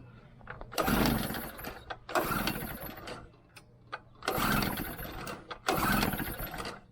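A ten-year-old Harbor Freight 800W generator's small engine is pulled over repeatedly, with sputtering bursts of running between pulls, each catching briefly before dying; loud and close with quiet gaps.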